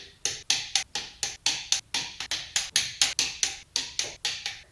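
A torque wrench tightens cylinder head studs during a head gasket job, with a series of sharp, evenly spaced ratcheting clicks close by and no talk.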